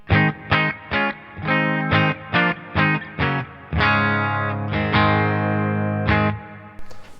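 A clean electric guitar through a Fender-style amp plays a sequence of chords, short choppy strums followed by longer ringing ones, bright and clear with no distortion.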